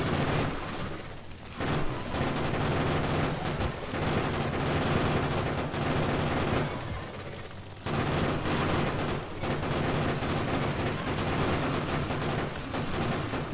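Gunfire in the video game Factorio, dense rapid bursts of automatic shooting that roll on almost continuously, loud and close, broken by a couple of brief lulls.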